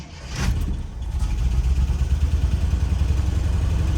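An old Jeep Wagoneer cranks and catches, then settles into a rough, uneven low rumble with a pulsing, misfiring rhythm, close and fairly loud.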